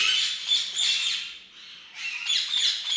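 Exotic birds at a breeder's aviary squawk in harsh, repeated bursts, loud and close, with a short lull in the middle before the calls resume.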